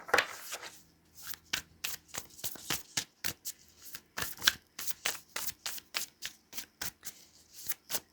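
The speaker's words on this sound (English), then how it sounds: "watching the shuffling can be boring" Cards are shuffled repeatedly, with crisp riffling bursts and soft flicks in a quick, uneven rhythm, close and quiet with no talking.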